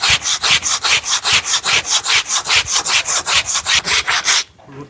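A hand saw rips through the trunk of a bent coconut tree with about twenty fast, even push-pull strokes, each a loud rasping burst, before the cutting stops abruptly near the end.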